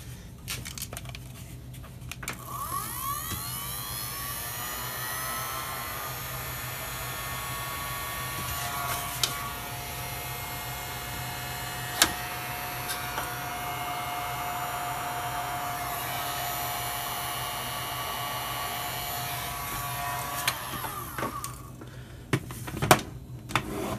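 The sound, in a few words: heat gun running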